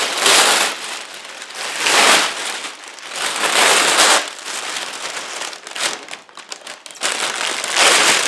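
A plastic sheet used for vacuum bagging a composite layup is crinkled and handled close by, loud crackling bursts that swell and fade over several seconds.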